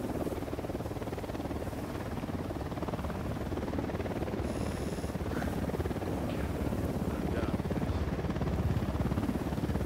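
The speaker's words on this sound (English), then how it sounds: "Chopper incoming." A helicopter in the video game Ghost Recon Wildlands approaches with a steady, throbbing rotor chop that grows slightly louder over ten seconds, with no voices over it.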